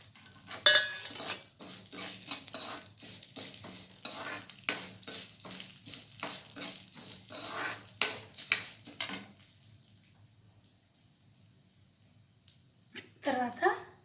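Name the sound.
roasting split black gram with husk in a pan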